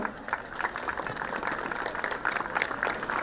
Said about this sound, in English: a loud applause for Class 11 Mime Show